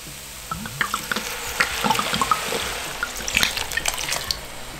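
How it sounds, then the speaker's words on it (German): About half a litre of dry red wine is poured into a smoked beef goulash pot to deglaze it, a close, splashing liquid gurgle with bubbling and spattering that builds and continues for several seconds. "So, nun ist Zeit, mit dem trockenen Rotwein abzulöschen, ungefähr einen halben Liter."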